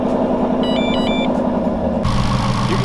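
A 2018-or-later Ford Mustang GT idles with a steady low engine rumble and a faint rattle from a worn idler pulley, close and continuous. A short run of electronic chime beeps plays early, then the noise grows louder and harsher for the last second.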